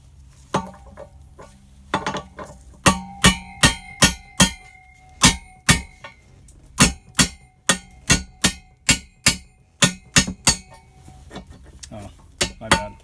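On a 1983 GMC K1500 Sierra Classic, a universal joint is hammered out after its needle bearing has disintegrated, giving sharp metallic clangs that come in quick irregular bursts, loud and close, with a few quiet gaps between strikes.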